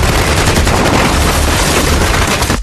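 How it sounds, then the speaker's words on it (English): Dense, loud gunfire in a film shootout, a continuous roar of overlapping shots with no gaps, close and with no voices. "Walker grabbed his shotgun and fought back, but bullets poured in like rain."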